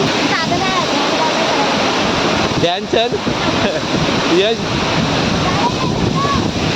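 Ranpat waterfall in the Konkan pours fast from a height in a dense, steady roar that fills the scene, while a voice speaks and laughs briefly over it.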